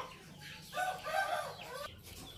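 Two-month-old Indio Gigante chickens, a young female among them, cluck softly in a short, faint series of calls close by.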